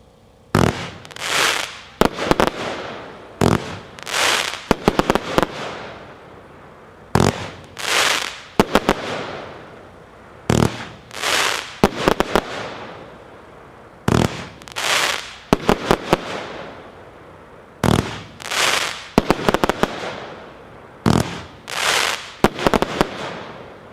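Repeated volleys from a 49-shot Somewhere firework cake: rapid bursts of launch thumps and crackling breaks in roughly eight clusters, loud and close, with brief pauses between volleys.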